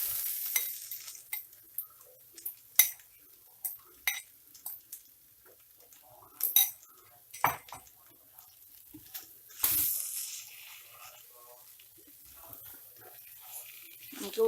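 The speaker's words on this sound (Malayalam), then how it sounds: "വേവിച്ച് ഉടച്ചു വെച്ചിരിക്കുന്ന ഉരുളൻകിഴങ്ങ് ഇതിലേക്ക് ഇട്ട് കൊടുക്കാം." Boiled mashed potato being stirred into masala in a pan, with soft scraping and tapping from the spoon in irregular bursts and a faint sizzle in between, close and quiet.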